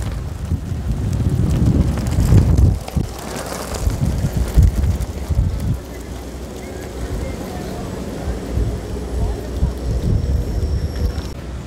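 Wind gusting into the microphone at a Rio de Janeiro Carnaval 2023 samba school float display, a heavy rumbling buffet that is strongest early on, mixed with crowd noise and voices.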